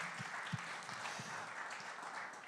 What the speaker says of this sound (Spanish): dense un aplauso por hacer uh. buenas preguntas